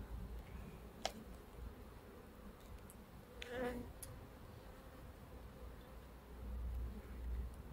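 Honeybees hum softly around an open hive, a faint continuous buzz with a few clicks and handling knocks close by.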